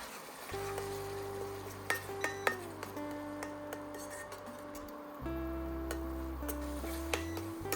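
Green chilli and coriander paste is sautéed with capsicum and onion in a pan, with scattered light clinks and scrapes from the spatula over a steady droning hum.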